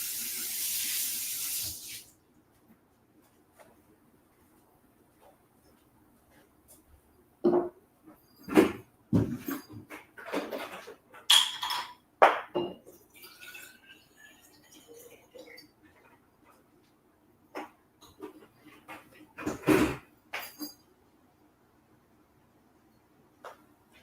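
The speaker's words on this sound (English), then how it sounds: "So like I had to get a little bit of water." Tap water runs at a sink while some is fetched, in several short bursts of splashing and flow separated by quiet stretches, fairly close and with no talking.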